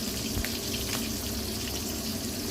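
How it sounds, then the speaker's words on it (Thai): Mackerel rinsed under a running kitchen tap, a steady close splashing rush of water over the fish that continues without a break. "ก่อนทอดต้องล้างน้ำก่อนค่ะปลาทู ล้างน้ำให้สะอาดสะอ้านก่อนค่ะ"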